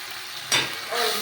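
Spice paste for a snail curry cooks slowly over a low flame, with soft, steady sizzling close by and a sharper burst of frying as it is stirred partway through.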